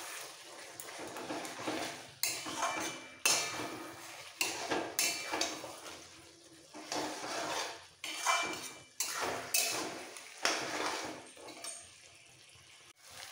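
Garam masala paste is stirred into murighonto, a pot of nearly cooked potatoes and rice, in repeated bursts of wet scraping and clattering with short pauses between strokes, close and fairly loud, with no one speaking.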